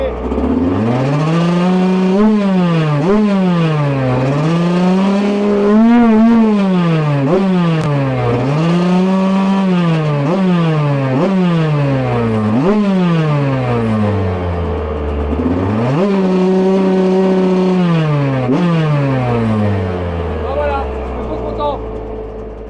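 A Yamaha YZ 125 two-stroke dirt bike engine revved repeatedly up and down, loud and close, with rising and falling pitch sweeps throughout and faint talk underneath.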